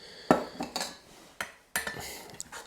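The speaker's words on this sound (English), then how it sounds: "we've got our cutlery, 2 sets of titanium cutlery" Two sets of lightweight titanium camping cutlery being handled, with sharp metallic clinks and clatters in short irregular bursts, close and fairly quiet, with small rattles between the hits.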